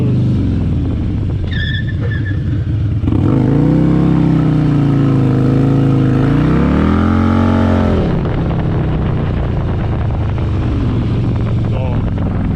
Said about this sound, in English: So that you have enough to flip the throttle and break that rear wheel loose.